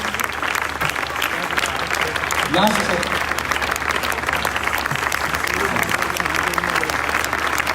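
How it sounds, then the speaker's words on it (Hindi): An audience at a revival festival gives loud, sustained applause to welcome a speaker onto the stage, steady clapping throughout with a voice talking over it. "जोरदार ताली"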